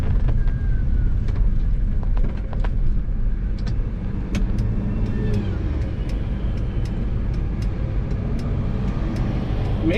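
A 1989 Ford F350 dually pickup with a manual clutch drives along, its engine and road noise a steady low rumble heard from inside the cab, with someone talking over it.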